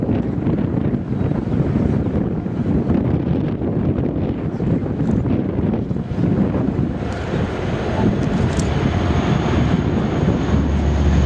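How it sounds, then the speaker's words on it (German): A C-160 Transall military transport aircraft departs during an evacuation exercise, a loud, broad roar of turboprop engines mixed with heavy wind buffeting on the microphone, steady throughout. "Erst mit dem Abflug des Transportflugzeuges mit den Echos und den Einsatzkräften treten die Hubschrauberkräfte den Rückmarsch aus dem Einsatzgebiet an."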